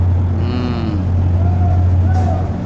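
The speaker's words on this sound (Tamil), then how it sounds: "கப்பலில் மாடை ஏற்றுறாங்க" Cattle moo near and far as they are loaded onto a cattle carrier ship, a steady low engine hum running underneath the calls.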